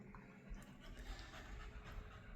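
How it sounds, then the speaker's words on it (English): A dog pants quickly and rhythmically nearby indoors, a soft steady breathy huffing that keeps going for a couple of seconds in a quiet room. "Excuse the panting in the background, the dog is wanting out."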